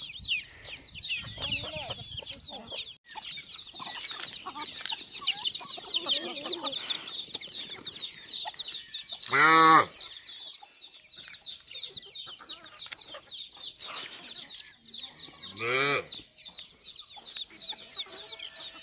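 Native chickens raised free-range on a farm cluck and squawk continuously, close and lively, with a couple of louder drawn-out calls standing out midway and late in the flock noise.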